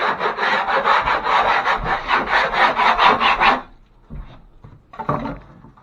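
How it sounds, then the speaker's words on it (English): A hand scraper is worked over rough texture on a bathroom wall, making rapid, rhythmic rasping strokes up close for several seconds, then a pause and a couple of shorter scrapes. "I'm going to scrape all this before we tape it"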